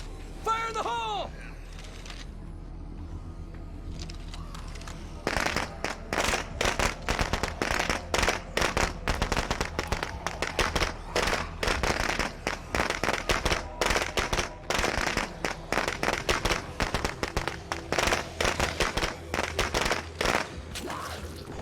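Firecrackers going off in a video game, a rapid, crackling burst of many sharp pops that starts a few seconds in and keeps rattling loudly to the end, with talking and game sounds beforehand.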